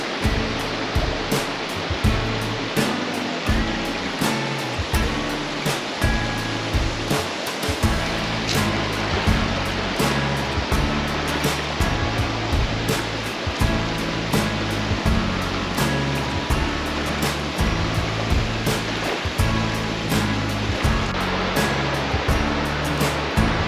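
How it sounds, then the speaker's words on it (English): A waterfall on the Lewis River Trail in Gifford Pinchot National Forest roars as a constant, dense wash of falling water, loud and steady throughout with regular rhythmic bumps, and no voices. "Did you see the secret waterfall?"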